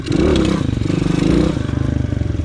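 A motorcycle rolls slowly in third gear, its engine giving a close, steady low throbbing rumble with a slight swell in revs partway through, then settling into an even pulsing beat.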